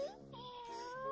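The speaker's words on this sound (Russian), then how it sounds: "Моя кукушка мяукает." A cartoon cat from Tom and Jerry gives a short, tonal meow, rising and sustained for about a second, fairly faint with no other sound around it.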